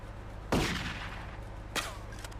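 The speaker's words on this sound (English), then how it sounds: "I'm going to use a shotgun for the bulletproofing." Two loud shotgun blasts from the video game GTA 3, the first at about half a second and the second just before two seconds, each a sharp crack with a short decaying tail over a steady low game hum.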